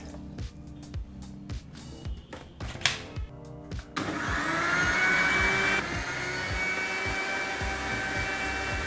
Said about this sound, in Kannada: ಈಗ ಇವೆರಡನ್ನು ಈಗ ಮಿಕ್ಸಿ ಜಾರ್ಗೆ ಸೇರಿಸ್ಕೊಂಡು ನುಣ್ಣಿಗೆ ಮಿಕ್ಸಿ ಮಾಡಿ ಜ್ಯೂಸನ್ನು ತಯಾರು ಮಾಡ್ಕೊಳ್ಳೋಣ.